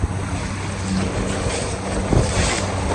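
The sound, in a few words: wind blowing while fishing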